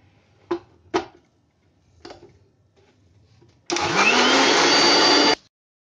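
Kitchen blender whirring loudly for about two seconds while mixing ground litchi with sugar and milk, following a few soft clicks and taps.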